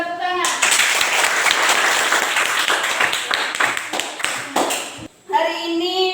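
Classroom of students clapping for a classmate, a dense burst of many hands running for about five seconds with children's voices mixed in, then cutting off as a teacher starts talking.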